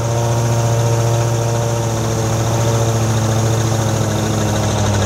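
A mid-pitched engine on a 2014 Inferno 3047 Eruption idling at a steady, even rumble, loud and close, with no start-up heard and no talking.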